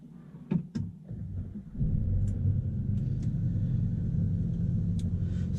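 Inside an Audi A3 on the move, a steady low engine and road rumble fills the cabin, rising after a couple of faint clicks near the start and holding constant throughout.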